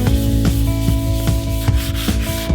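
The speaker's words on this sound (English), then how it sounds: "just take a piece of sandpaper, not super coarse sandpaper, sand it down" Back-and-forth sandpaper strokes scuffing a glossy surface before painting, close and loud, with a quick regular rhythm of about two strokes per second against a humming background.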